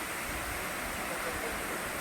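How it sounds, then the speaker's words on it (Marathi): A waterfall near the Kas plateau gives a steady, even rushing roar of falling water that fills the whole moment without a break. "हे बांधण्याला धबधबा आहे"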